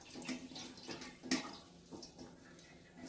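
Fresh tomatoes being turned through a food mill for keto pasta sauce, giving soft, faint wet squishing and trickling sounds in small bursts with one sharper squelch.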